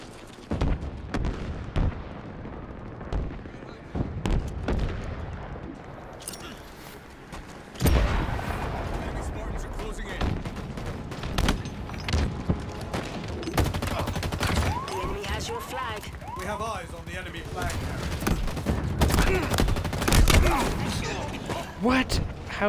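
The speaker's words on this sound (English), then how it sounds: "Tank is shooting at it." Halo multiplayer capture-the-flag match with a tank firing, heavy booming cannon shots and bursts of gunfire layered through the game's constant battle noise, with a player talking over the action.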